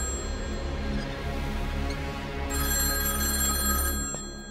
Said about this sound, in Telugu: ఆ ఫోన్ నీకా నాకా?